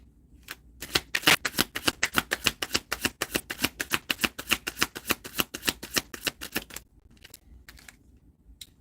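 A deck of cards is riffle-shuffled in a rapid, steady burst of crisp flicking clicks lasting several seconds, followed by a few loose taps as the cards settle.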